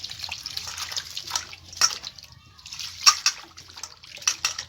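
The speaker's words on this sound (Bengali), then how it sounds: "আবারও আমি জল দিয়ে ধুয়ে নেব।" Water runs and splashes as pieces of chalta (elephant apple) are rinsed in a kitchen, an uneven sloshing stream with several louder splashes and brief pauses, close by.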